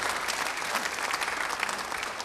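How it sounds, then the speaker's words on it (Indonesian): An Indonesian church congregation claps in praise to God, a full, steady burst of applause that stays loud and even throughout its couple of seconds, with no voices over it. "Beri tepuk tangan yang baik buat Tuhan."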